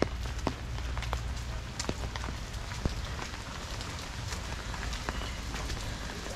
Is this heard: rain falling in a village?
yes